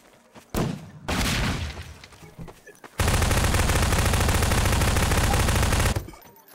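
Gunfire while shooting in a hunting game: a couple of short loud bursts, then a sustained three-second rapid automatic stream that cuts off abruptly, close and dominant.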